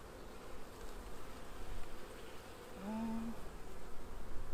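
Honey bees buzz at a hive while a brood chamber is added, a faint, steady, low insect drone throughout with no talking.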